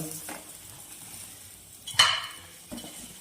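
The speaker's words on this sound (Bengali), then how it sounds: "ফ্রাই প্যানটার মধ্যে আমি এটাকে এখন বসিয়ে দেব" Banana-leaf-wrapped fish paturi set into a frying pan, a faint low sizzle broken by a sharp brief hiss and a couple of soft clunks.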